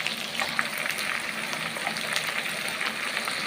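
Ginger garlic paste sizzles in a pan with onions already fried red, a dense, steady crackle with small pops, close and continuous, cooked at a picnic.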